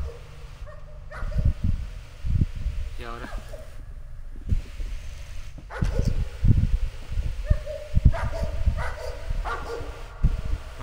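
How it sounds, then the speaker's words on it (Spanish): A dog barks and whimpers in short, scattered bursts in Layers of Fear, among rustling and footsteps, with a voice speaking Spanish briefly in between. "Perro."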